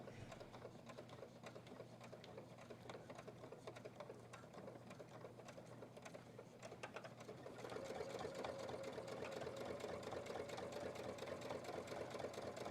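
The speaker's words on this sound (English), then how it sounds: "I am definitely used to using a sewing machine with a foot pedal" A sewing machine stitches at a quilting and sewing shop, a steady mechanical whir with a rapid needle rhythm that grows louder and faster partway through, heard faint and alone.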